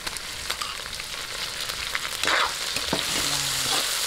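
Onion and pork frying in a pan, giving a dense, constant sizzle and crackle with occasional scraping stirs, growing louder partway through, close and without speech.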